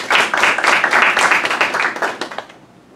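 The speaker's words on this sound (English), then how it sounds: "Let's clap for Abel, everybody." An audience claps enthusiastically in a room, a dense burst of applause lasting a couple of seconds before tapering off into quiet.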